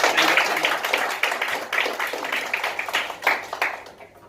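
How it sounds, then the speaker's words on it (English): A small audience at a Women's Day celebration at a company gives a round of applause, with uneven, individually distinct claps that start strong and gradually thin out and fade toward the end. "Let us once again give her a big round of applause"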